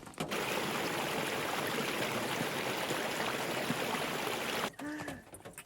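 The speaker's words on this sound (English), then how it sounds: "Got water filling happening." Water runs steadily into a container, a continuous rushing hiss that cuts off near the end, followed by a brief voice.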